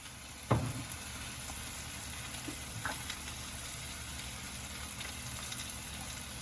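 Tomatoes sautéing in a pan with spices gives a faint, steady sizzle throughout, with one soft clink near the start and a few small knocks later.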